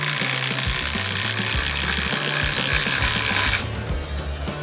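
A tiny 12V impact driver bores pilot holes into wood for huge lag bolts, a loud, steady rattling whir with pulsing low hammering that cuts off sharply near the end, leaving quieter background noise.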